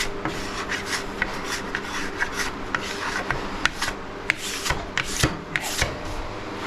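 A plastic scraper rasps wax off a ski edge in quick, repeated rubbing strokes, close and steady, with sharper scrapes at irregular moments and no talk.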